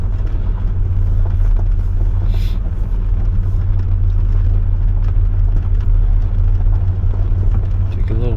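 A car driven slowly by a ten-year-old, its steady low engine rumble and road noise constant and close throughout, with an adult voice speaking over it.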